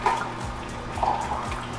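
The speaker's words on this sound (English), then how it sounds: "This is about 2 cups of water I put in here." About two cups of water pour into a juicer for almond milk, making a soft, uneven trickle and splashing up close with a few dripping accents.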